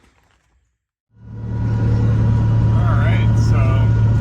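Nissan 370Z on the road, its engine coming in after a second of quiet as a steady, loud low drone with road rumble, while someone talks over it.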